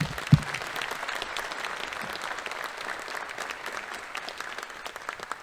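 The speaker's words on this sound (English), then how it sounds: "Let's give another round of applause for the Costons." Steady, dense applause from an awards-ceremony audience at the 2024 Academic Top 25 event, with one brief thump near the start and the clapping continuing evenly throughout.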